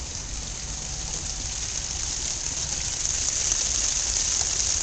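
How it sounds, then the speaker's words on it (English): A waterfall in a Japanese garden in a city rushes in a steady, dense hiss of falling water that stays loud and unbroken throughout. "Listen to the water."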